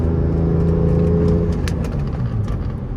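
A BMW E46 M3 on a street drives through a turn, its engine holding a steady, loud mid-range drone with harmonic layers that loosen slightly as the car comes out of the bend.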